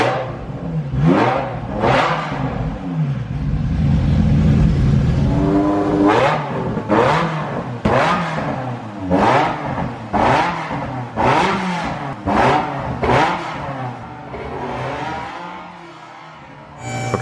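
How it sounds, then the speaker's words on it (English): A cold straight-piped Ferrari F355 engine is blipped through about a dozen sharp revs that climb and drop back without reaching redline. Each rev is loud and close, with a rough idle rumbling between them and no talk. "It's still pretty cold, so I'm not, you know, revving it to red line, but it fired right up."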